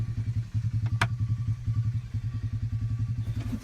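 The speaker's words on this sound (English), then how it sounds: "So this is a planter tractor." A planter tractor with a power shift transmission and dual wheels runs with its engine steadily throbbing in a low, even pulse. A brief clank cuts in near the start.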